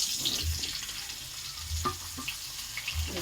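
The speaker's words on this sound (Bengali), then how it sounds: "আমি বেগুন আলু তেলে দিয়ে দেবো" Brinjal and potato pieces frying in hot oil with a steady close hiss, broken by a few soft clinks and low thumps from the pan; no voices.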